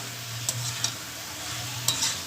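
Spices sautéing in oil in a pan for a fish curry with figs: a constant sizzle with a few sharp spatula taps and scrapes, no voices.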